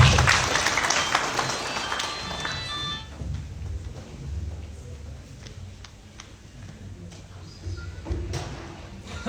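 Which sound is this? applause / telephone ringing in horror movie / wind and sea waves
applause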